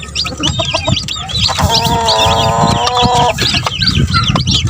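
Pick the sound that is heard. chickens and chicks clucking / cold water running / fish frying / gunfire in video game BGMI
chickens and chicks clucking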